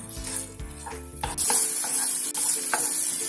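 Potatoes frying in coconut oil, a stirring clatter at first giving way to a loud, bright, steady sizzle, with one brief dip and scrape partway through and no talk.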